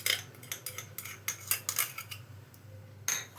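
A spoon clinks and scrapes in a bowl as spices and ginger-garlic paste are mixed into grated potato for aloo tikki, with irregular close metallic taps and rubbing, no voices.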